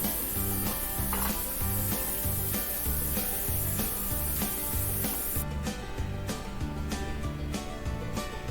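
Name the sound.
potatoes frying in hot oil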